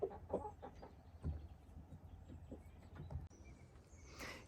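Homestead chickens in rural Portugal cluck and murmur softly nearby, scattered short calls over quiet outdoor background noise, with no talk.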